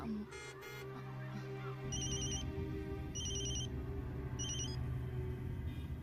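A telephone ringtone in a 2014 Bollywood film scene chirps in three short repeated bursts, steady and fairly clear over a low, continuous background hum.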